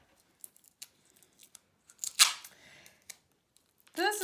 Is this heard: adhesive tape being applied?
yes